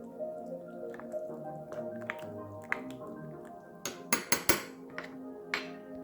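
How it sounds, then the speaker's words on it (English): Mango salsa being stirred in a bowl, with wet squishy sounds and sharp utensil clicks against the bowl, including a quick cluster of taps near the end, close and moderately loud with no talk. "And give it a nice little stir."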